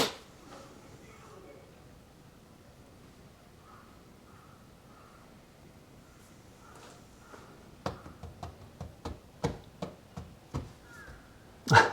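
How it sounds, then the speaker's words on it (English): Crows cawing outdoors, picked up by an outside microphone, a run of loud, sharp calls in quick succession near the end after a quieter stretch with faint background voices. "So the crow sounds you're hearing, I think, are from here."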